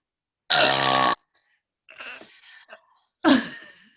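Two people burp at once in a long, loud, rough belch, followed by softer, broken burp sounds and then a sharp final burst, with no talk in between.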